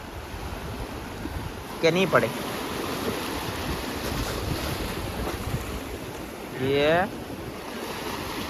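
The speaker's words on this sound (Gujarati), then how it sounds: "કેમ મોજા થઈ જાય ઘડીક વારમાં મોજા આવવા મળ્યા, બોલો." Sea waves wash and roll continuously along the Gujarat coast, with wind buffeting the microphone throughout; two brief bursts of speech break in over the steady surf.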